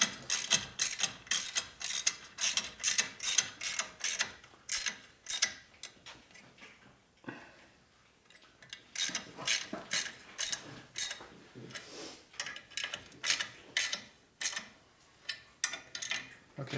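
Ratchet wrench clicking in rapid bursts as it tightens a bolt on a 1983 Harley-Davidson FXRT Shovelhead motorcycle, sharp close metallic ticks in repeated runs with a short pause midway.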